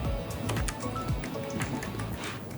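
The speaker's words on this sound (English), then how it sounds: "Oh wow, look at him typing." Someone types steadily on a computer keyboard, a close run of quick key clicks with no one talking.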